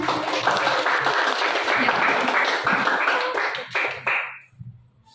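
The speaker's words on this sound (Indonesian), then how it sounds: "tepuk tangan" A room full of people at a school discussion clapping steadily for several seconds, then the applause trails off and fades to near silence.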